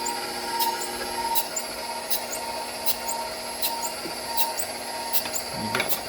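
A KitchenAid stand mixer drives a fruit and vegetable strainer attachment, giving a steady, fairly loud motor hum with a rhythmic whine and repeated squeaky pulses, without speech.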